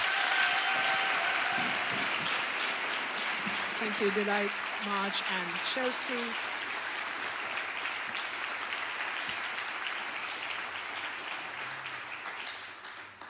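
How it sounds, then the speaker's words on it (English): Applause for panel members at a sustainability celebration, a steady wash of clapping throughout that slowly thins, with a host talking over it early on. "If we could give them another big round of applause."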